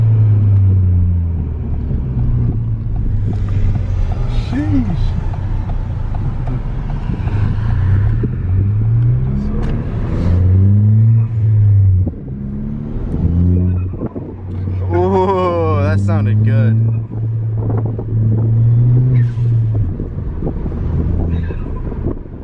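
A Ford Fiesta ST turbocharged engine with a Turbosmart blow-off valve roars loudly with heavy intake noise, rising and falling as it accelerates, while people talk over the rumble.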